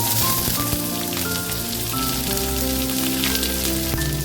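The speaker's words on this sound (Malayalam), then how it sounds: "ഞാൻ ഇവിടെ ഒരു വലിയ സവാള എടുത്തിട്ട് അരിഞ്ഞു വെച്ചതാണ്, അതിട്ട് കൊടുക്കാം" Chopped large onion hits hot oil in a pan with fenugreek, giving a dense, continuous sizzle and crackle that stays loud and steady with no talking.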